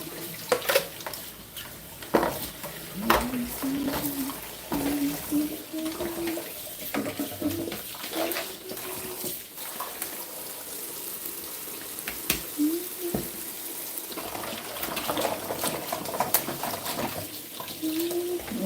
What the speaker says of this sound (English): I'll just let the water run for 2 seconds while I get a clean napkin for drying out stuff.